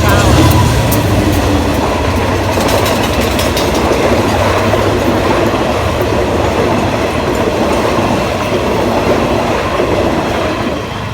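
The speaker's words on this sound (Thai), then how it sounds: "วันนี้ทำขบวนโดย GEA นะครับ 4539" GEA 4539 diesel locomotive hauling ordinary train 254 from Lang Suan to Thonburi past the Ban Meng community in Ban Pong, Ratchaburi, Thailand, with a loud, close, continuous rumble and clatter of rolling wagons throughout.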